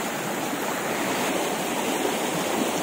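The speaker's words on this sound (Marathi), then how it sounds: "तिकडून हा ओढा वाहत येतोय आणि इकडे नदीला मिळतो" A village stream flowing down to join a river, heard as a steady, even rush of running water close by with no voices.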